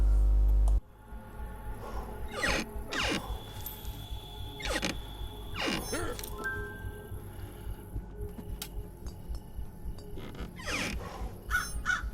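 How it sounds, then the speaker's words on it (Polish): A raven caws repeatedly in the Secret Neighbor video game, loud harsh calls spaced every second or two over a steady game ambience with occasional electronic tones. "to kruk pokazuje, gdzie jest następny klucz"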